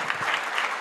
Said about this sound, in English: Let's give him a big round of applause to Weid.